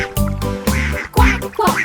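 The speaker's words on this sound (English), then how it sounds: "2 happy ducks." Several loud nasal duck quacks from a cartoon come in quick bursts, close and clear, with no talking.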